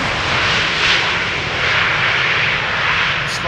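A passenger airliner lands at Schiphol Airport without reverse thrust, its engines giving a steady, loud broadband roar that swells slightly and holds throughout with no one talking.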